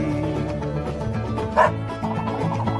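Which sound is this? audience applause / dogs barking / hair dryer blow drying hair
dogs barking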